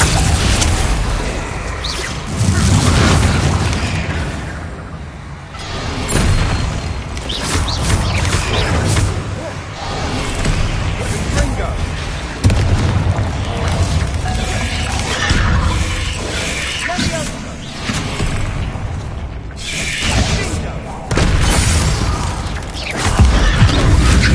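Confringo fire-spell explosions in Hogwarts Legacy: a loud, continuous stretch of repeated blasts, shattering crashes and whooshing bursts, with combat noise filling the whole span and a voice faintly in the mix.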